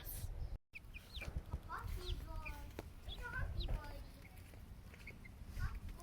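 Young chicks outdoors on grass, cheeping and clucking in short rising calls scattered over soft rustling and pecking, close by, with people talking over them.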